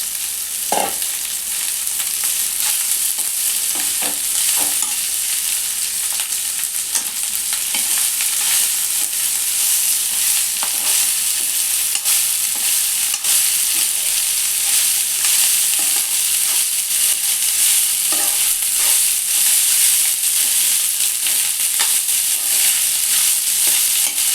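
Onions frying in hot oil and stirred for tempered rice, a steady loud sizzle running throughout with the faint scrape of a spoon now and then, close up and with no voices.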